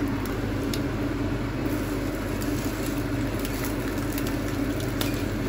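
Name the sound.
food frying in a non-stick pan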